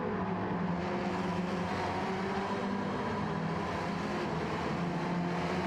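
Several old racing cars in the Gran Turismo 7 video game roar continuously at a steady, loud level, their buzzing engine drone blending together with no pauses.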